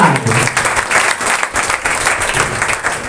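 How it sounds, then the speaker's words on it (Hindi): A congregation at a prophetic church service claps together, a short burst of loud, rhythmic group clapping with uneven pulses. "सैमुअल क्यों नहीं शुक्र एक बार ताली को बजाए।"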